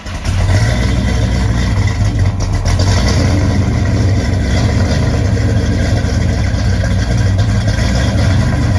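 A big block Chevelle engine runs at a steady, loud idle close by, with a deep, lumpy rumble that holds for several seconds.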